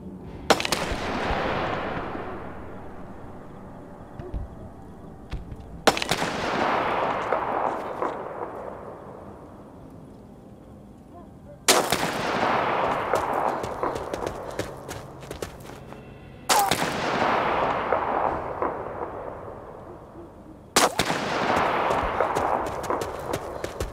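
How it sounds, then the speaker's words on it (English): Sniper fire in the war survival game This War of Mine: five loud single gunshots, each ringing out with a long decaying echo, spaced roughly five seconds apart. "the main alley is under sniper fire"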